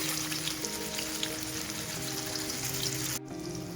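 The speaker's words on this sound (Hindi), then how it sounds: "अब हम चपली कबाब को फ्राई करेंगे।" Chapli kebabs frying in oil in a pan, a steady close crackling sizzle with faint spattering pops, continuous throughout with a brief dip near the end.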